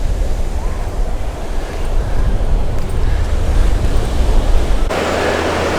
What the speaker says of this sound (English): Some beautiful, beautiful waves.